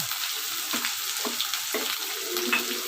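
Chopped onions frying in hot oil for a chicken curry give a steady, close sizzle, broken by a few soft stirring scrapes in the pan.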